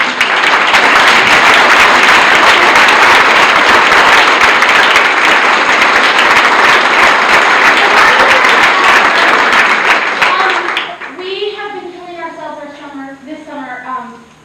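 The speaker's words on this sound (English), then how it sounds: "everyone can give you a round of applause" Loud, sustained crowd applause for the staff and volunteers of the Santa Fe Dreamers Project at a border update event, lasting about ten seconds before fading into a speaking voice.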